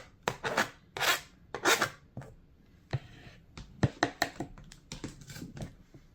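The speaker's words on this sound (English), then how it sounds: "I cutted tomato." A knife chops tomato on a board for South Indian curd rice, a run of sharp close cuts with uneven rhythm, quiet scraping between strokes.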